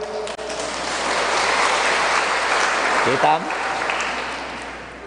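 A church congregation at Immaculate Conception Parish in Sta. Cruz, Ilocos Sur applauds in a steady, dense wash of clapping for about five seconds, and a voice briefly speaks over it.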